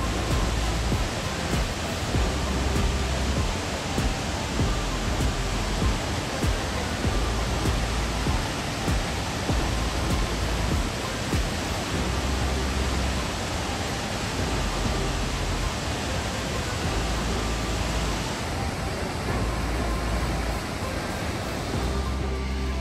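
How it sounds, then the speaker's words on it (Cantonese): A waterfall in Japan near the Shiraito Falls, heard from a viewing deck as a loud, unbroken roar of rushing water that fills the whole scene without pause. "OK 啦，呢個係正常嘅瀑布樣。"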